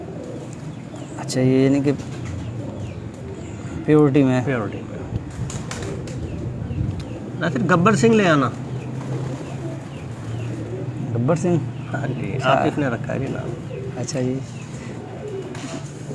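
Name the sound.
flying pigeons cooing on a rooftop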